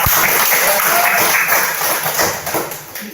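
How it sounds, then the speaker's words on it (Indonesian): Steady applause for a group of high school students after a class presentation in an Indonesian classroom, many hands clapping together in a full room, fairly loud and tapering off toward the end, with no talking. "kita berikan aplaus untuk kelompok"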